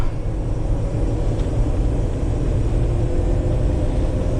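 Cabin sound of a 2009 Fleetwood Icon 24D Class C motorhome with a Mercedes diesel, cruising at highway speed with dash air on: a loud, steady low road rumble and engine drone with no breaks.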